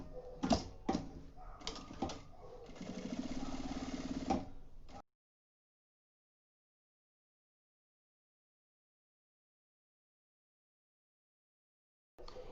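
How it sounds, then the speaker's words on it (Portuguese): A sewing machine stitches over marked lines on a fabric pocket of a nursing kit pouch, with a few short ticking bursts followed by a steadier whirring run lasting a couple of seconds, then long silence. "passar uma costurinha em cima dessas linhas que eu fiz"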